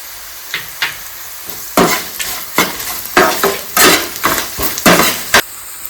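Curry leaves and turmeric powder hit hot oil in a pan for a spicy lima bean mixture, giving bursts of crackling sizzle with repeated scraping stirs of a spoon against the pan, close and fairly loud.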